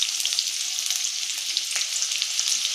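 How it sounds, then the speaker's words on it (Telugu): Chopped onion and green chilli fry in about three spoons of oil in a pan, a steady close sizzle with light crackles and occasional stirring sounds, no voices. "కొంచెం ఫ్రై చేసుకుందాం బాగా"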